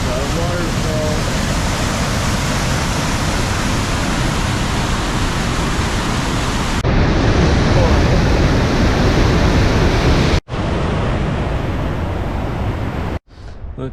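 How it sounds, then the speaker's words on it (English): Waterfall on Dinwoody Creek among granite cliffs in the mountains, a loud, steady broadband roar of falling water heard up close, continuous for many seconds with brief dropouts near the end. "Got a waterfall."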